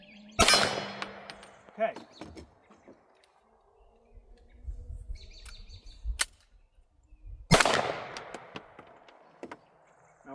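Two sharp 9mm pistol shots with regular rounds crack out several seconds apart, loud and close, with quieter handling sounds and a brief word spoken in between.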